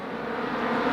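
Racing car engine in a Dallara sim racing esports event, a steady droning roar with faint crackling as it drops through the gears, loud and continuous for under a second with no talk.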